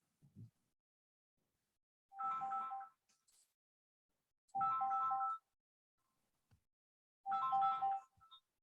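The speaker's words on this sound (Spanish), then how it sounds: "Me están llamando por teléfono, eso es lo que tienen las reuniones de Zoom." A phone ringtone goes off during a Zoom meeting, three identical bursts of a bright melodic electronic ring roughly every two and a half seconds, moderately loud against near silence.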